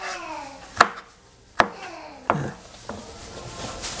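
Knife chopping vegetables on a cutting board for a home-cooked stir-fry of bean sprouts, four or five sharp, separate chops spaced unevenly, close and fairly loud, with no talking.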